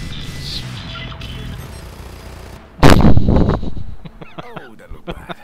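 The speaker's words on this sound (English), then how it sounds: "Explosion" A loud explosion in the open-world game Just Cause 3 bursts in suddenly after a stretch of quieter game noise, then decays into rumbling debris and a few sharp cracks, with a voice talking faintly beneath.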